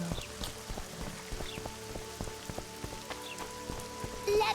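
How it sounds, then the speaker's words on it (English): Steady rain pattering on surfaces in the fantasy game The Witcher 2, with faint hoof clip-clops and chimes underneath, continuous and moderately loud throughout. "it's really raining"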